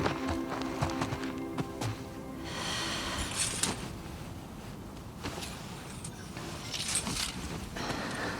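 Horse hooves clip-clopping in The Last of Us Part II, a steady run of soft thuds beneath continuous game ambience and music with some sharp taps, moderately close.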